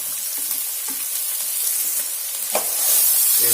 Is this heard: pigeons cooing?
no